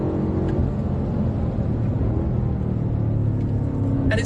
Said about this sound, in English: the sound with the exhaust system in this car